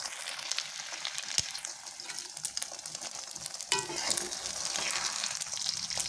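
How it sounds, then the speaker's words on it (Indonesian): Beaten eggs for an omelette frying in a pan over a lowered stove flame, a steady close sizzle with bursts of crackle and scraping stirs, no talking. "kalau menggoreng telur tuh gini teman-teman"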